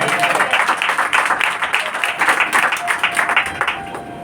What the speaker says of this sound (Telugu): నమ్మిన వారు గట్టిగా చప్పట్లు కొట్టండి.